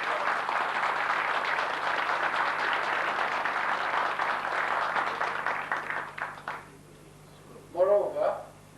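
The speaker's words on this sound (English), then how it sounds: "I think he deserves our applause." Audience applause at a book launch, a sustained, even clapping from a crowd that runs for several seconds, then tapers off before a voice begins speaking.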